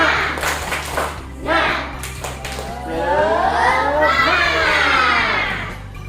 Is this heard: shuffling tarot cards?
no